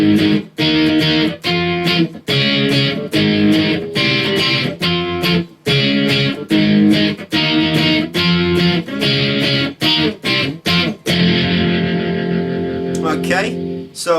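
An electric guitar with heavy distortion plays an outro as chopped, rhythmic power chords with short gaps, loud and close, then a brief ringing tail as talk begins.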